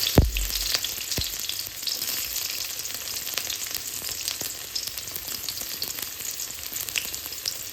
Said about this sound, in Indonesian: Sekarang kita tumis bawang merah, bumbu sayur kita ya.